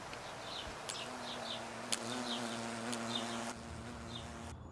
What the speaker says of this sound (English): Or a bee comes buzzing by you very loudly,